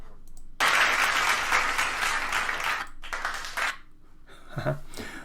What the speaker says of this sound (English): with the applause